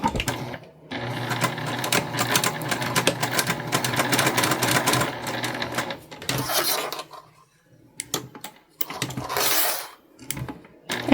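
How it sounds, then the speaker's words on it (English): A sewing machine runs in long continuous bursts as it stitches a 1/4 inch seam on fabric for a card lanyard. The stitching is close and steady, stops briefly, then resumes in shorter runs. "And we're stitching about 1/4 inch."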